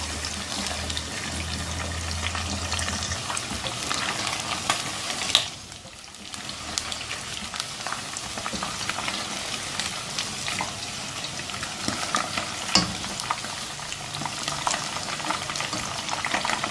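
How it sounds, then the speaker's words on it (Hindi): Chicken pieces for a highway-style karahi fry in oil with a steady broadband hiss, stirred now and then with soft scraping clicks; a brief quieter gap near the middle breaks the otherwise continuous close sizzle. "अब इसको इतनी देर तक फ्राई करना है कि ये आधा पक जाए और रंगत इसकी गोल्डन ब्राउन हो जाए।"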